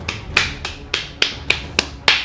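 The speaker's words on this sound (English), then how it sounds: "Let's clap for Qin Shi Huang." Eight sharp handclaps spaced at an even, fairly quick rhythm, each crisp and close, with no voices alongside.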